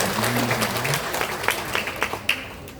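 Scattered clapping from a small crowd at a Balinese Drama Gong performance, with irregular individual claps standing out over a background hum and faint voices.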